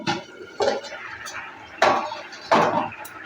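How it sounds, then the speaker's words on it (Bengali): A metal lid is lifted off a pan cooking kakrol and potato sabji. Three distinct clanks and scrapes of metal on metal sound close by, with quiet kitchen background between them. "ঢাকনাটা এবার তুলে নিচ্ছে"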